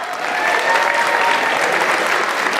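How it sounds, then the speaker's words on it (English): Steady applause from a school audience at a first-grade Christmas show, many hands clapping continuously and evenly with a faint crowd murmur, sustained at full level throughout. "How about a big round of applause to start out?"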